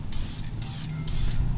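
Brake calipers being spray painted with white paint produce short, hissing aerosol bursts. Four or five quick sprays follow one another with brief gaps, close and moderately loud over a low background hum.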